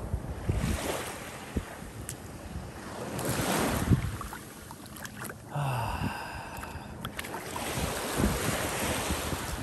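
Gentle surf washes in at Willard Beach, Maine, in rolling swells mixed with heavy wind buffeting the microphone; a brief tonal whistle cuts through midway.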